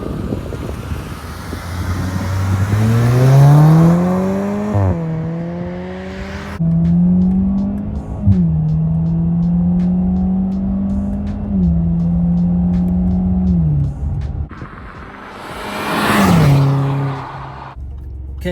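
A Jaguar XE 25t sedan driven hard, its engine revving up through several gears with rising pitch, brief drops at each shift and a final surge, heard loud from inside the car.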